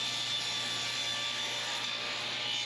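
Wooden spacers for a circle-cutting jig are being sawn, a steady close rasping stroke that keeps up without pause or voices.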